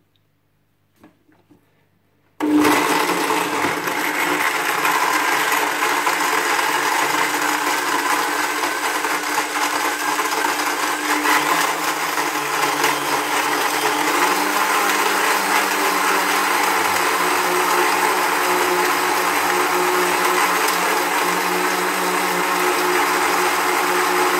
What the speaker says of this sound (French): Voilà, au blender que je m'allume.